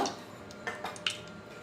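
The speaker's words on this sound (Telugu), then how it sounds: "ఫ్రై అయిపోయినాయండి ఇవన్నీ ఒక బౌల్లో తీసేసుకుందాం" Fried eggs being moved from a pan into a bowl for a mango egg curry, a few soft close clinks and scrapes of utensil against cookware spread across a short quiet moment.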